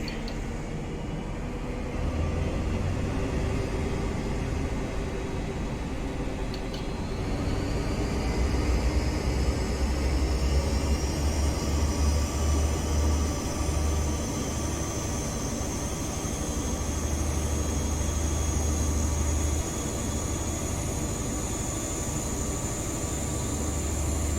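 Class 43 HST InterCity 125 power car in Train Simulator Classic drawing away, with a steady low diesel rumble and a rising whine that climbs and holds, loud and continuous with no talk.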